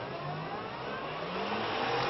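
A car engine revs steadily, its pitch climbing and then falling as the throttle changes, filling the whole moment with a continuous close mechanical drone and no voices.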